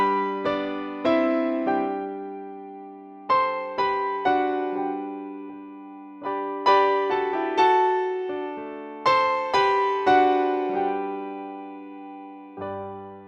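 Piano plays the ending of a song, a slow run of ringing chords and melody notes that decay between strikes, close and clear with no talking.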